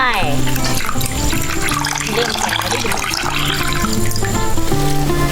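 Water splashes and pours steadily into a cooking pot, about a litre, while a voice talks over it nearby.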